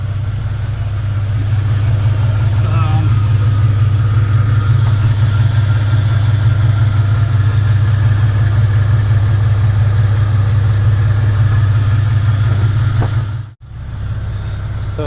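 A Jeep Cherokee XJ fitted with a Walker Quiet-Flow stainless muffler and new catalytic converter idles close by, giving a steady, deep, even exhaust drone that holds throughout and then cuts off abruptly near the end.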